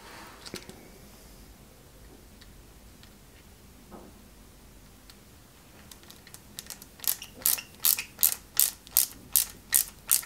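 Small screws are driven by hand into a 1/8-scale Lotus Renault 97T model kit. Quiet fiddling gives way to a rapid series of sharp, close ratcheting clicks from the screwdriver.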